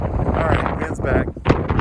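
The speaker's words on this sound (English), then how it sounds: "All right, wind's back." Gusting wind buffets the microphone outdoors in Southern California, a rough, continuous roar with a few sharper gusts near the end.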